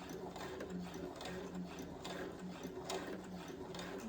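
A Brother CS7000X sewing machine backstitches a dress seam with a quiet, steady mechanical whirring and fast rhythmic clatter, heard close.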